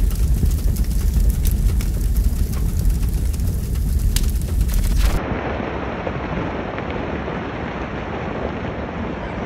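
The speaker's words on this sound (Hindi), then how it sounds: "सेंटियागुइटो ज्वालामुखी का फटना प्रकृति के गुस्से का एक डरावना रूप है।" Santiaguito volcano erupting with a deep, continuous roar and rumble, loud and steady throughout with no talking, shifting partway into a duller, wind-buffeted rush.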